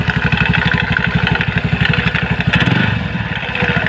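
Motorcycle scooter CVT pulley with a scraping, rubbing fault, running steadily with a fast rhythmic engine pulse and clatter throughout, loud and close, no talking.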